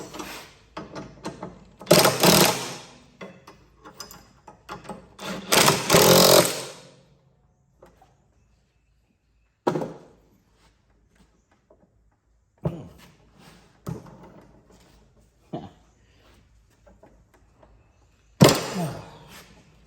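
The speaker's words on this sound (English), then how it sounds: "So now we're gonna go ahead and just tighten these things up" A 3/4 inch wrench tightens bolts on a pine straw rake 3-point attachment for a compact tractor, heard as short bursts of rapid mechanical ratcheting separated by quiet pauses.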